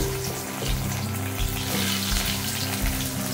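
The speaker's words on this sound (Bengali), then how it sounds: "ওই তেলে 1/2 চামচ পাঁচফোড়ন দেব, আর দিয়ে দেব গাঁটি কচুগুলো। গাঁটি কচুগুলো ভেজে দেব।" Gati kochu (taro) pieces fry in oil seasoned with panch phoron after fish has been fried in it, giving a steady, close sizzle with soft bubbling throughout and no talking.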